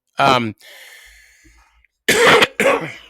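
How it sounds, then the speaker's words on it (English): A cough close into a podcast microphone, a sharp burst followed by a faint breathy trailing sound, then after a pause two more rough throat-clearing coughs in quick succession, near and loud. "I muted myself and then I cough into the mic"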